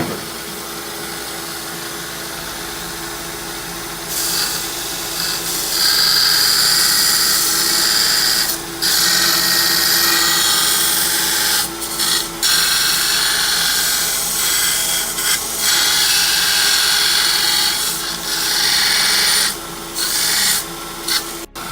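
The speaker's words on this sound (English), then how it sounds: "We're gonna see how good this Harbor Freight bandsaw is" A Harbor Freight bandsaw cuts a crowbar being shaped into a knife, giving a steady loud rasping whine that runs almost without a break for about twenty seconds, with only short dips where the cut eases.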